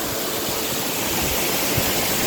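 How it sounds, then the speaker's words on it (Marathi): Waterfalls pour down the Sahyadri mountain ranges near the Ghatghar–Chondhe dam, making a constant, dense rushing roar that stays even throughout without any breaks. "डोंगर रांगांच्या नासानासामधून कोसळणारे हे धबधबे"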